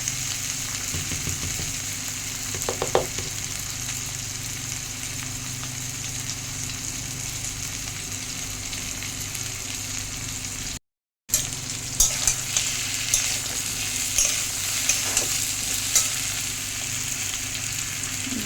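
Fish frying in oil with turmeric and salt, a continuous loud sizzle with intermittent stirring scrapes, briefly cut off midway before resuming with sharper crackles.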